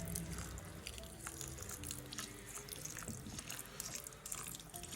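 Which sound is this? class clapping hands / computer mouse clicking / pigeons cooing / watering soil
watering soil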